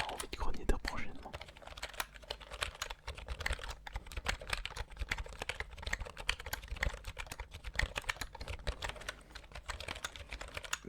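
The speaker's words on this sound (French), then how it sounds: "C'est le clavier. Le pire c'est qu'il ne s'agit même pas d'un clavier mécanique." Quick, busy typing on a non-mechanical computer keyboard, close and fairly soft, with dense irregular key taps throughout in a quiet room.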